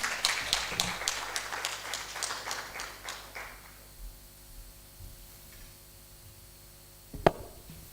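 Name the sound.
audience applause for the panel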